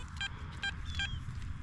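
A Garrett Ace metal detector sounds three short, evenly spaced electronic beeps over a buried target outdoors, clear against faint background noise.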